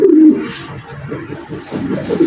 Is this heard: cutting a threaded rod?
no